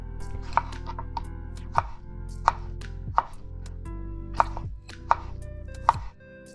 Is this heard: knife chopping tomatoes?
yes